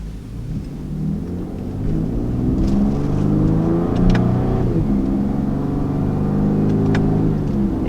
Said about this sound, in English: This engine has a really neat tone to it. You can definitely hear the turbocharger.